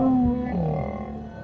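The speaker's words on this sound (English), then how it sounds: "He had a mouth full of lion and he was roaring." A male Mapogo lion roaring during a fight with another lion, a deep drawn-out roar with a falling pitch, close and loud, with no voices over it.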